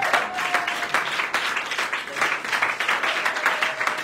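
A church congregation at an Easter service bursts into sustained applause, a dense patter of many hands clapping together while a voice carries on over it.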